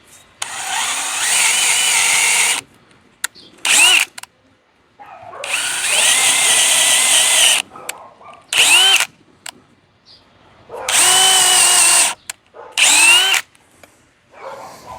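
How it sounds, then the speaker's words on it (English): A power drill fitted with a 5mm bit bores starter holes in wood for egg chair swing arbor hardware, running in several loud whirring bursts of a few seconds each, broken by short pauses and brief revs. "they want a 5mm or a 13/64 drill bit to start the holes"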